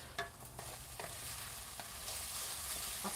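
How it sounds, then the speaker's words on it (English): Mushrooms, peppers and onions sauté in a hot pan, giving a steady quiet sizzle with a few soft scrapes and stirs of a utensil. "A saute of veggies. So we've got mushrooms, peppers, and onions."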